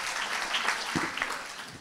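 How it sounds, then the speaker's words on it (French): Audience applause at a European cultural cooperation talk: a steady wash of clapping that stays fairly quiet, with a few sharper claps standing out before it tapers off. "Oui, on peut applaudir"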